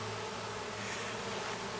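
Honeybees swarm loudly around a hive that has been opened and pulled apart in late July, a dense, steady buzz with no pauses and no voices.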